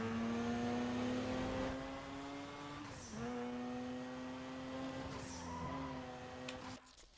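A car engine in Need for Speed Most Wanted holds a steady high-RPM whine with boost turned up, dipping briefly twice as gears shift before settling again, loud and continuous with no talk.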